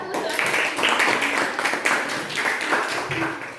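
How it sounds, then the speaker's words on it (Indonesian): A classroom of students applauds a presenting group, a steady, dense patter of clapping close by that runs for several seconds without pause. "kita beri tepuk tangan untuk kelompok 1"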